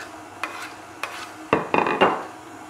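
Cold butter mashed with a rolling pin in a home kitchen: a few separate dull thuds and squishy presses, two quick single knocks followed by a heavier cluster of pressing thumps, close and moderately loud with no talking.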